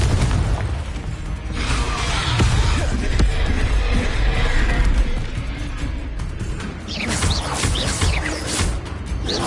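A Confringo fire spell explodes during combat in the video game Hogwarts Legacy, with loud booming blasts and crashes over a dense, continuous rumble of battle noise.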